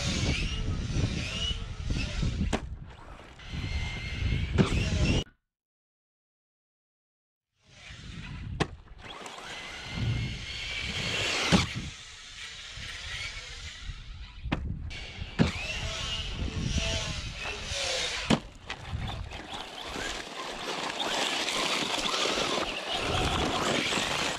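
An ARRMA Senton 4x4 RC truck running on 4S power whines and buzzes loudly in bursts, its electric motor revving up and down with a brief silent cut near five seconds and gritty rolling noise between.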